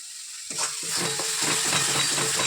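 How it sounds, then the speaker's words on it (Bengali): A spice paste hits a hot pan after a moment of silence and then fries with a rising, continuous sizzle, while a spoon scrapes and stirs in short, repeated strokes close by. "মশলাটা এখন ভালো করে কষিয়ে নেব"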